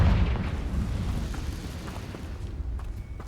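A Confringo blasting spell explodes in Hogwarts Legacy, a loud booming burst that opens strongly and then rumbles and decays over a few seconds, with a faint crackle trailing off.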